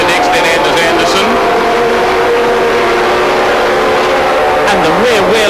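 Yamaha racing motorcycles at Lakeside Raceway in 1987, engines droning steadily at a distance with rising and falling pitch, mixed under continuous commentary.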